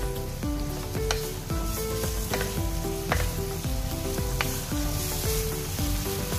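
Thick coconut milk goes into a pan of Indian-style cauliflower, giving loud, steady sizzling and stirring with a melodic tune playing underneath.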